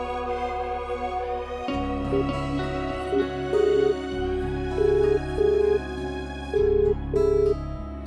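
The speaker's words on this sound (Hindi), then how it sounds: "मैं शनाया को फोन लगाता हूं।" A phone call rings out unanswered, with a repeating ringback tone pulsing in short bursts over steady background music.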